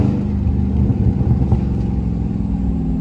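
Dodge Charger Scat Pack engine revving while driving, a steady deep mid-pitched growl with slight pulsing, close and continuous with no talk.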